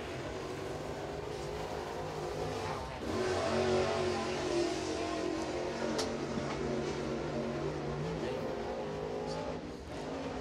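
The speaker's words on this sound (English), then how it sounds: "Pulling out onto the speedway at this time, we got the 17 of Chip Brindle." A crate race car's engine drones steadily as it pulls onto Crossville Speedway for a qualifying lap, heard at a distance with a continuous, fairly even roar that swells slightly partway through.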